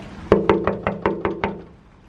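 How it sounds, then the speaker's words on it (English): Seven hard, evenly spaced knocks bang on an apartment complex door, each a loud, close, resonant thud, the last few slightly softer before the sound dies away. "I just gotta bang on the door really hard so she can hear me"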